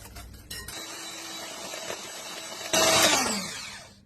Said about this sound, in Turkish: Keke için 3 adet yumurtayı kırıyorum. Bir klasik su bardağı toz şekeriyle çırpıyorum.